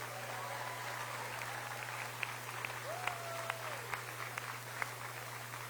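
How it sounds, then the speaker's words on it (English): An audience at a Washington state gubernatorial election night event applauds with a faint, steady wash of clapping over a constant low hum, with a few sharper claps standing out. "Please join me in a big round of applause"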